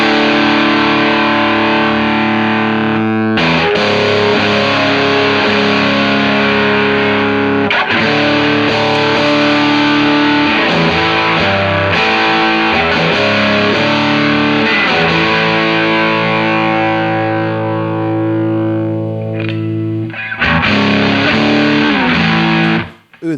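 Electric guitar on the neck pickup through a 1980s ProCo Rat II distortion pedal, loud sustained distorted chords changing every few seconds in a steady riff, played alone and cut off sharply at the end.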